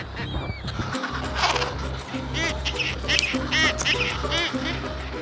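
Antarctic penguins squawk and call in a dense, noisy colony as a skua raids a nest and a parent bird fights back, with repeated harsh, honking cries close by over steady low background noise.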